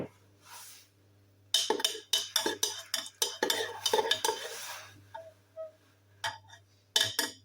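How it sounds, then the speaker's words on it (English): Spoon stirring coffee with chili powder in a cup, bursts of clinking and scraping against the sides in quick irregular rounds, fairly close, with quiet pauses between. "I'm going to give it a little stir."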